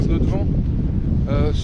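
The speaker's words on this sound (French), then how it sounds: "aujourd'hui c'est un petit peu plus mouvementé, on a 15 nœuds de vent" Wind at about 15 knots buffets a sailboat at anchor off a harbour in choppy seas, a steady low rushing roar against the microphone, while someone talks over it.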